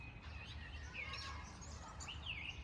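Wild birds chirp by a clear-water lake shore: faint, scattered tweets and short calls over a soft, constant outdoor background, with no voices.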